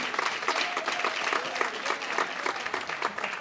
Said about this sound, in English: Gives a round of applause at gives a ripple.